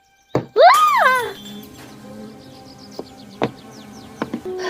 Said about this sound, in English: What in the buzzing world was that?